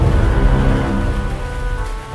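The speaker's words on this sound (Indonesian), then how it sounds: "Hujan nih." Steady rain pours in an animated cartoon scene, a dense continuous hiss with low rumbling underneath, loud and unbroken throughout with no voices.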